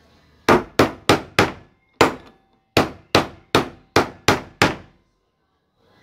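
Hammer blows drive a bearing into a homemade bearing housing: eleven sharp, loud metallic strikes in quick irregular groups, each ringing briefly before the next, with no talk.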